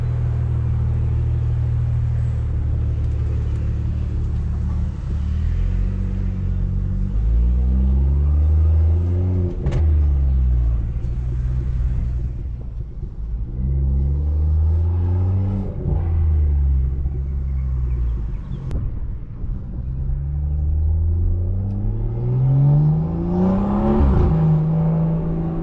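Loud, continuous exhaust drone from a BMW 340i with a big turbo and straight pipe, driven through city traffic, with repeated rising and falling rev sweeps as it accelerates and shifts, plus a low rumble throughout.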